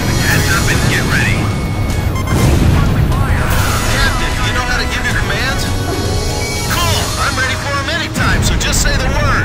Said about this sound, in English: The fireboat got caught in the explosion!